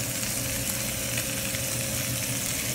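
Steady loud sizzling of onion and garlic frying in a pan, a continuous crackling hiss with faint stirring scrapes and no talking.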